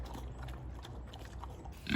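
Pigs grunting and snorting at close range around a livestock trailer being readied for hauling hogs, low rough sounds with a louder burst of noise at the end.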